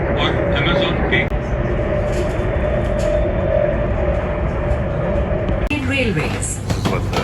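A Delhi metro train rumbles and whines steadily from inside the carriage, with a shift in the running noise late on and voices heard at times.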